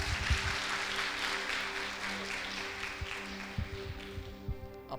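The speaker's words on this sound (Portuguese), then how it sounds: "Aplaude Jesus de novo." A church congregation applauds during a worship service, a dense wash of clapping with steady hum and organ-like tones, plus a few low thumps, at moderate level throughout.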